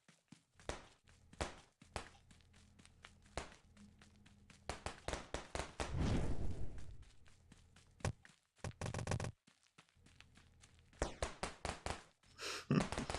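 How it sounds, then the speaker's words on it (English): Firecracker-like pops from a hyper casual running and slapping game, rapid crackling bursts in irregular clusters with a noisy rushing swell in the middle and a sharp final kick, fairly quiet overall with no talking. "It does sound like firecrackers, Jill."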